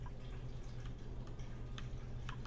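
Water in the colony-building game Oxygen Not Included falls as faint, scattered drips and trickles over a low, steady hum.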